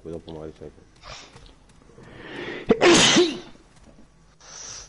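A single loud, close sneeze bursts out in the middle, between stretches of casual conversation in Italian before and after it.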